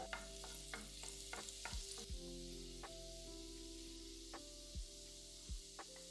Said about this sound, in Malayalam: വെളുത്തുള്ളി വളരെ ചെറുതായി അരിഞ്ഞത് 2 ടീസ്പൂൺ ഇട്ട് 30 സെക്കൻഡ് മൂപ്പിക്കുക